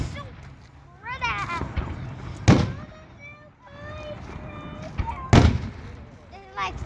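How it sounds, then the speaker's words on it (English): Fireworks at a Tehachapi show in 2022 go off as two loud booming bursts about three seconds apart, with crackling tails and people talking and whistling throughout. "Oh, the fireworks are so pretty."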